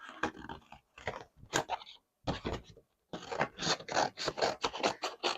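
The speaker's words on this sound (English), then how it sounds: "I should cut cardboard with these." Scissors snip through cardboard in a crafting session, a run of close, crisp crunching cuts that comes in irregular bursts with short pauses, then settles into a quicker, steady series of snips.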